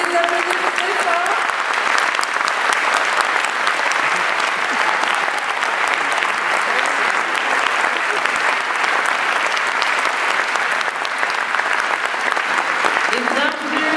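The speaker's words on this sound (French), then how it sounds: "Vous pouvez les applaudir très fort." Festival audience at the opening night of the Clermont-Ferrand International Short Film Festival applauding the competing directors: dense, sustained applause filling the hall for the full length, steady and loud with no pauses.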